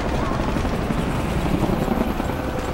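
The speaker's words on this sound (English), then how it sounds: "More helicopters. There's always helicopters, Lara." A helicopter in the video game Shadow of the Tomb Raider gives a loud, steady rotor roar throughout, with a constant dense thrum and no break.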